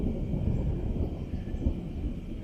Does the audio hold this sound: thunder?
yes